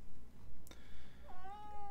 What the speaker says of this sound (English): kitty has decided to jump up and start crying